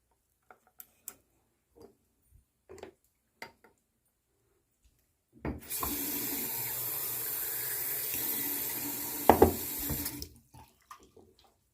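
Tap water running into a pot for about five seconds, a steady close rush that starts and stops abruptly, with faint clicks and taps before and after and no talk.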